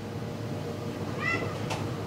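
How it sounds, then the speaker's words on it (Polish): A cat meows once or twice indoors, a short rising call standing out faintly over low room noise and household rustling, with no talk. "Co tu robi kot?"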